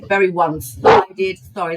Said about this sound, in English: It's barking at the cat.